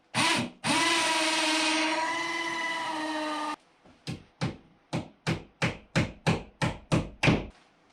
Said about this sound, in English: all you need to do is just drill one hole there and drill one hole there